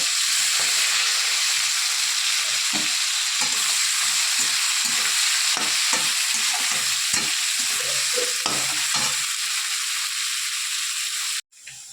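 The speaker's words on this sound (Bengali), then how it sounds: "এই তেলের মধ্যে আমি চিংড়ি মাছগুলো একটু ভেজে নেব।" Turmeric-and-salt-coated prawns fry in hot oil in a kadai with a steady loud sizzle, broken by irregular clinks and scrapes of stirring, then a brief drop to near silence at the very end.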